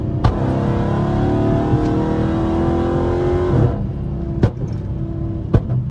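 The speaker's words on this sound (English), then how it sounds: "Listen to the pulls with the windows up compared to the when they're down." A fast car pulling hard through traffic, heard from inside the cabin with the windows up: a muffled, steady engine drone climbs in pitch for several seconds, then eases off, followed by a few sharp knocks.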